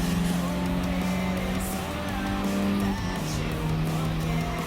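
Race cars driving in Gran Turismo Sport, with Peugeot 208 GTi French sport hatchbacks in a custom race, give a loud, steady engine drone that shifts pitch as they run close together.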